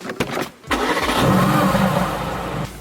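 A Mercedes-AMG GT S sports car engine cranks briefly, then fires up with a loud roar and settles into a rough, throaty idle close by, exhaust mode switched on.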